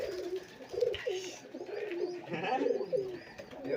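Old-breed white Rajshahi pigeons coo up close, a soft, repeated rolling call that goes on and on with little background noise.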